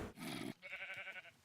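Sheep bleating in a Minecraft modpack pen, one long wavering bleat followed by a second, close and fairly quiet with no talk over it.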